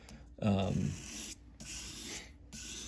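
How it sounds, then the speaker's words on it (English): An edged tool rubbed against sandpaper while being sharpened, heard as a close scraping stroke that is loud at first, then steadier, lighter rasping strokes with brief pauses between them. "You also can go a long way just by using a lighter touch as you come to the final stages of sharpening."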